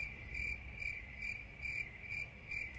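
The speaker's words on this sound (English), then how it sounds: "Crickets." A cricket chirps in short, evenly spaced pulses, about six bursts in a steady rhythm, close and clear against a quiet background.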